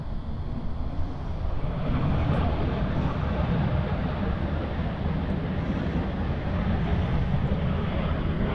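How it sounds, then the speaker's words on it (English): A Boeing 787 Dreamliner taxiing toward runway 34 left at Sydney Airport in gusty wind makes a continuous low engine rumble, steady and fairly loud, with faint voices barely present. "that Dreamliner starts to make its way on 3-4 left"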